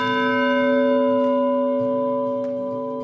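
A single large church bell, consecrated on 13 May 1934, rings out with a rich, sustained tone that slowly fades, its overtones humming evenly.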